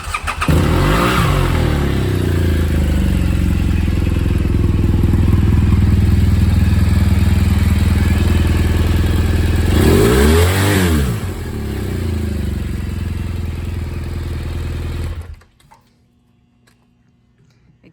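A 2016 BMW R1200GS motorcycle engine runs loud and steady up close, with a couple of revs swelling in the middle before it shuts off and goes quiet near the end.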